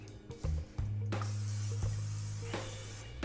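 Cooking spray hisses onto a pan in bursts, a long steady spray in the middle with shorter puffs around it, close and fairly quiet, preparing to cook an egg.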